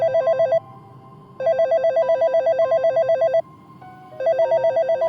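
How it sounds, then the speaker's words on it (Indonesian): A home landline telephone in a living room rings in electronic trilling bursts, three rings separated by short silent gaps, loud and close with a faint background hum. "Pas suara telepon itu berbunyi, langsung saja aku keluar kamar dan menuju ruang tamu, tempat di mana telepon rumah itu berada."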